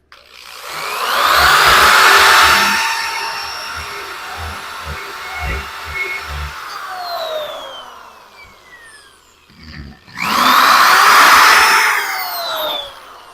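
Electric die grinder porting a VW engine case for a mini stroker build, whining loud and steady for about eight seconds, winding down, then spinning back up for a second burst, with grinding chatter against the aluminum case.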